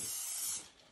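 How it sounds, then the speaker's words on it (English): Olive oil spray hisses from an aerosol can onto a seasoned turkey in one close, steady burst of about half a second that then tapers off, with no talking. "Once I have all the seasoning on, then I take olive oil spray"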